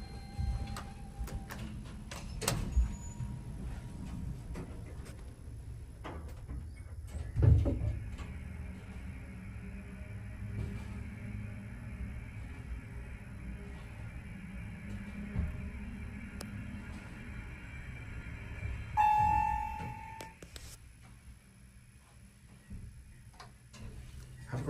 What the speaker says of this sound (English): Wait, you got to hear that motor.